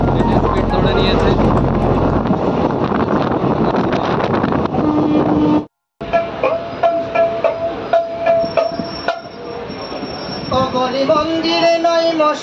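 Special passenger train on the Santragachi to Digha line rolling at speed, a steady loud rumble of wheels and carriage noise with wind buffeting, a brief dropout midway, then tonal squeals and music-like hum over the running noise.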